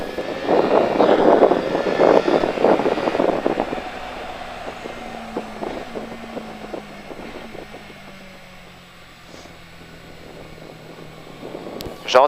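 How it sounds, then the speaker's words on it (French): Motorcycle engine revving and accelerating, loud and close at first, then settling into a steadier drone with a pitch that slides as the bike leans out of the corner. A fresh burst of throttle comes right at the end. "Une fois que tu y es, tu redresses la moto en accélérant."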